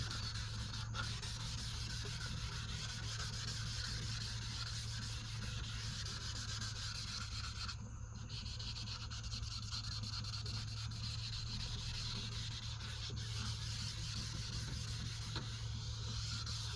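A car headlight lens is wet-sanded with 2400 grit sandpaper, giving a faint, steady rubbing hiss that runs continuously at close range over a low background hum.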